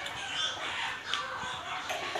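Free-range village chickens cluck in a steady, fairly close flock with noisy outdoor background throughout, no talking over them.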